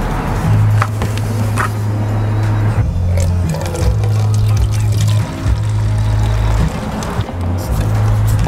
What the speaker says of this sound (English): then add some water, which I'm going to have to use a bottle of water